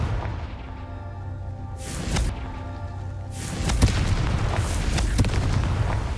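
Booming explosions from the Confringo fire spell in Hogwarts Legacy, with a heavy blast followed by a rumbling series of bursts and thuds over a low game soundscape.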